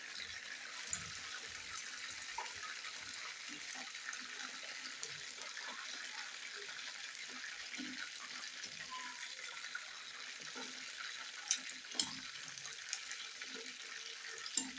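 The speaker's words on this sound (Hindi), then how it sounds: "तो इस तरह से हम थोड़ा सा चिकन को भी फ्राई करेंगे" Butterfly chicken pieces fry in oil with a faint, steady sizzling hiss, broken by scattered soft pops and crackles.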